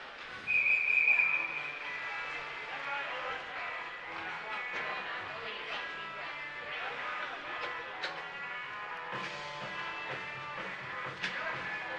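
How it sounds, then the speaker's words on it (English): A referee's whistle stops play in a Rhode Island Division 2 boys' high school hockey game, Ponaganset vs Cumberland. One short, shrill blast comes near the start, then rink ambience continues under commentary. "A whistle to stop play here."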